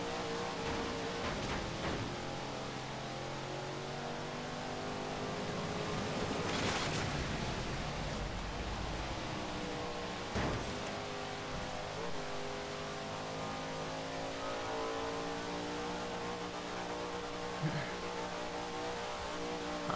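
A car's engine drones steadily while driving in Forza Horizon 3's Hot Wheels expansion, a fast Class A car with lots of torque near its 165 mph top speed, holding a continuous revving hum throughout with a brief louder surge midway.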